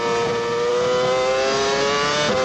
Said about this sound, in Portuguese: É o motor Mercedes da McLaren